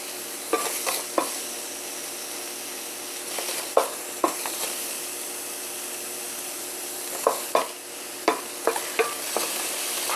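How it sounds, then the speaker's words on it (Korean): Onions are stir-fried in a dry frying pan with no oil over medium heat, the first step of Korean janchi guksu noodles. A constant, close frying hiss continues throughout, punctuated by occasional spatula scrapes and knocks, with no speech. "네, 지금 양파부터 볶아줄 거예요."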